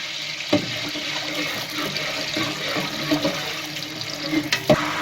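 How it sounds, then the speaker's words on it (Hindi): Two glasses of milk poured into a large cooking pot for shadi-style degi zarda rice, a steady splashing liquid gush close by with a few clanks from the vessel. "इसमें मैं अभी दूध डाल रहा हूँ, 2 गिलास दूध डाल रहा हूँ"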